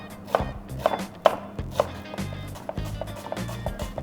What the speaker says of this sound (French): Ciseler, ça veut dire que je vais couper dans ce sens-là, le fendre en deux et faire des petits cubes.